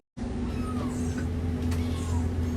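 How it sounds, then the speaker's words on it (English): Small kittens meow faintly in the distance over a loud, steady electrical hum in an animal shelter kitten nursery full of incubators. "tons of incubators of little baby kittens"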